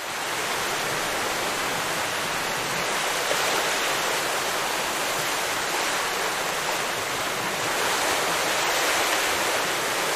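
Steady broadband wash of ocean surf waves on the Outer Banks near Manteo, a continuous roaring hiss without distinct breaks, fairly loud and unbroken for the whole stretch.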